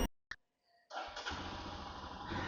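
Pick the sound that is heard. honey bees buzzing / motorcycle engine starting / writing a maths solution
motorcycle engine starting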